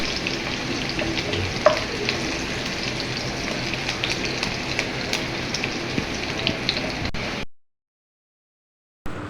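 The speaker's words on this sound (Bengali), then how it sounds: "দিয়ে আমি এই ফোড়নটা ভালোভাবে ভেজে নেব।" Whole spices like bay leaves and cinnamon fry with chopped onion and garlic in hot oil, giving a loud, steady crackling sizzle with scattered pops that cuts off abruptly near the end.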